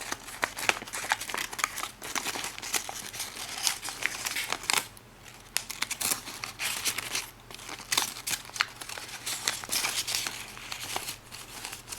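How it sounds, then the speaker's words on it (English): Crisp origami paper crinkles and rustles steadily as a modular three-unit hexagon box base is folded along a diagonal, close and continuous with small sharp creasing snaps. "just finish it off by folding it along this diagonal"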